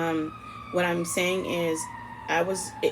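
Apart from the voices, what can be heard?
sirens passing outside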